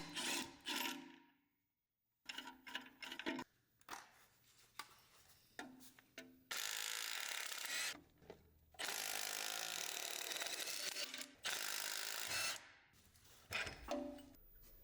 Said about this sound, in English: If the stud doesn't come out with the top one, you can remove it using an E10 socket.